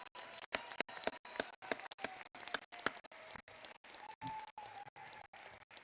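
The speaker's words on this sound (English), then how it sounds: "can we give one more round of applause for our graduates" Applause for graduates fills a university commencement hall, a dense steady wash of many hands clapping from a large crowd, continuing throughout at moderate loudness.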